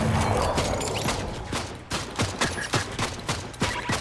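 Gunfire rings out in a Fortnite Battle Royale Zero Build squad match, loud rapid shots at first, then a string of separate sharp cracks spaced roughly every third of a second.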